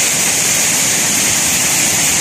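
The Curug Cughup Buluh waterfall at Gumay Ulu Lahat roars close by as a loud, steady, unbroken rush of falling water.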